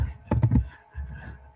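A few quick clicks of typing on a computer keyboard, a short burst of three or four keystrokes followed by softer, muffled tapping close by.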